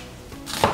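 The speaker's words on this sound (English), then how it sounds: "there is a little trick that you can use for the onion chopping" Single knife cut through an onion on a board, making a short, close crisp chop that follows a brief quiet moment, with no voices.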